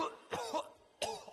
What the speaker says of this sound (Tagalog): Panay naman ang ubo ni Kuya, kaya wala na siyang pakialam sa paligid.